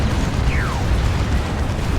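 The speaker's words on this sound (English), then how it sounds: "Big Stormblade Plasma Destroyer shot." A big Stormblade Plasma Destroyer shot in the Warhammer 40,000 strategy game Dawn of War 2 fires amid busy battle noise, a brief descending whoosh cutting across a dense, rumbling wash of explosions and mechanical clatter.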